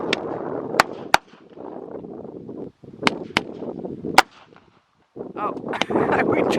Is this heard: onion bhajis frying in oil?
no